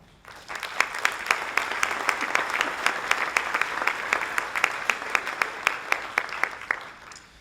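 Steady audience applause with many hands clapping, sharp individual claps standing out above a dense, even wash that holds throughout before tapering at the end.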